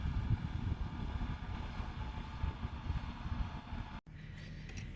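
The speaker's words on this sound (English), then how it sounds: "This is the tractor's first time taking the trailer down the hill." Farm tractor towing a trailer down a hill on a homestead, a low, steady engine rumble with some wind noise that cuts off abruptly near the end, leaving quieter background.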